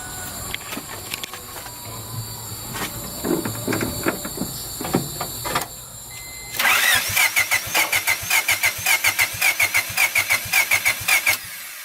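Honda Civic engine turning over on the starter during a cylinder compression test, rising from faint clicks and shuffling into a loud, steady, rapid rhythmic cranking that continues to the end.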